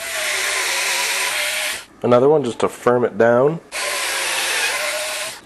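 Power drill driving screws into a cheap pine board, two sustained whirring bursts, loud and close, with someone speaking briefly between them.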